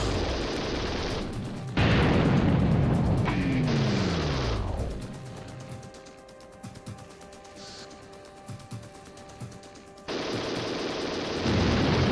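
A TerminalFury weapon fires in the game Hellbender, with long, loud, continuous rapid-fire bursts broken by a descending whine and a quieter stretch of mechanical hum before the automatic fire resumes.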